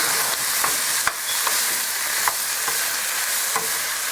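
Beef pieces sizzle in a pot for a curried stew with peppers and vegetables, a constant loud fry under regular scraping stirs and occasional utensil knocks against the pot.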